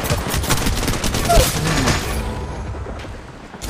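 Gunfire in the mobile video game Apex Legends Mobile, dense bursts of rapid shots crackling over in-game background noise, thinning toward the end of the short stretch.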